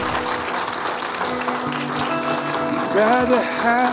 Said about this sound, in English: Why don't you just clap your hands if you're glad to be alive and in this space today